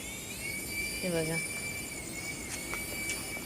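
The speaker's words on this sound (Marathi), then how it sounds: "तो एवढा छान उडतो ना, तो खूप छान उडतो, मस्त उडतो हेलिकॉप्टर." A toy helicopter from a village fair flies nearby with a thin, steady high-pitched motor whine, while a person talks briefly over it.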